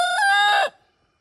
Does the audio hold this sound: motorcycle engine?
no